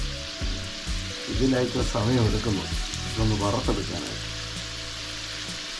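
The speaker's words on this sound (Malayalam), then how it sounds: "പൊട്ടാറ്റോ മൂത്തുകൊണ്ടിരിക്കുന്നതിൻ്റെ ഒരു വശം ഇതാ നല്ല ബ്രൗൺ കളറായി ഇനി ഒരു പ്രാവശ്യം വറക്കാനുള്ള ഇരിപ്പുണ്ട്" Potatoes frying in oil for dum aloo, a steady soft sizzle and crackle beneath someone speaking, with a low hum continuing after she stops.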